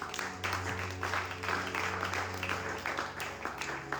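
A church congregation claps and applauds in steady rhythm, with a sustained organ-like tone beneath and a murmur of voices mixed in.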